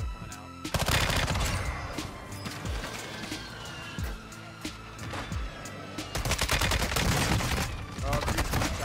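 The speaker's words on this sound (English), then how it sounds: "They're shooting above." Bursts of automatic gunfire and scattered shots in a Call of Duty Warzone match, loud and dense at the start and again near the end, with sparser single shots between and a voice talking under the action.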